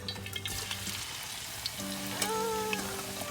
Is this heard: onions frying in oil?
yes